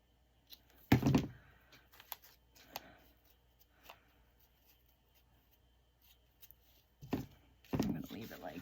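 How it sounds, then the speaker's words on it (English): Scissors cutting paper for a paper craft, a few crisp snips and slicing strokes with quieter rustling between, close and soft, with a person speaking. "so let me cut this."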